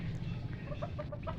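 A laying hen clucks in a backyard run, a few short tonal calls repeating near the end over a steady low hum of background noise.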